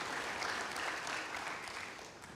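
Church congregation applauding for God during a service, steady dense clapping, fairly faint and distant, fading slightly toward the end.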